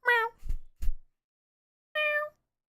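A person imitates a Minecraft cat meow with their voice: a short, nasal meow, then two soft breathy sounds, a pause, and a second short meow, all close and clear.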